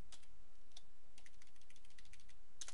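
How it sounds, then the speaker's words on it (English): Typing on a computer keyboard while entering input into a running program, with soft scattered keystrokes in irregular bursts, close and fairly quiet against a faint background hiss. "and I type in no"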